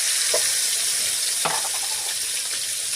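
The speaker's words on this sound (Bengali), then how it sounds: "চলো, সরষের তেলটা গরম হতে এই চিংড়ি মাছগুলোকে সুন্দর করে ভেজে নেব।" Prawns fry in hot mustard oil with a steady, close hiss that fills the whole stretch. A few soft stirring knocks sound over it, and no one speaks.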